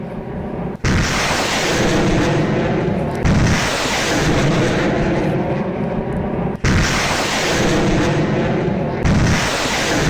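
Russian multiple rocket launcher fire pounding Donetsk: loud, sustained roaring blasts fill nearly the whole span, with brief breaks between successive volleys and a dense rumbling wash underneath.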